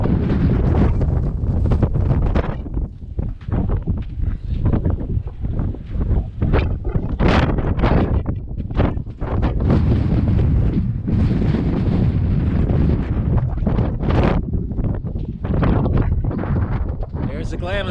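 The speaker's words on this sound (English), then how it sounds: "Yep, a little windy today here in Glamis." Heavy wind at the Glamis sand dunes batters the microphone in a loud, continuous rumbling roar with sharp gusty bursts throughout.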